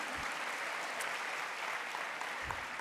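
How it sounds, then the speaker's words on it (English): At a general session of a religious assembly, a crowd gives a round of applause, heard as a dense, even wash of clapping that holds steady at moderate distance with no talk. "can have a round of applause for them"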